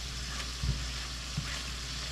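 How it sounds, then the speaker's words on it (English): A sausage pan deglazed with a splash of vodka gives off a dense, even sizzle, close and loud, with a couple of faint knocks from the pan. "we're gonna go ahead and deglaze this pan here. Just a little bit of vodka."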